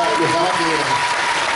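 Audience applause at a folk music gathering honoring a singer, dense clapping from a crowd with someone talking over it throughout.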